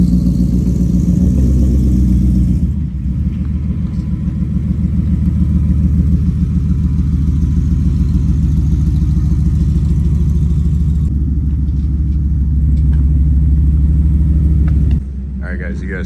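A pickup truck, a twin-turbo Ford F150 on steel wheels, runs with a steady, loud low rumble, alone at first and then continuing under talking voices.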